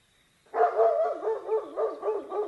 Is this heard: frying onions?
no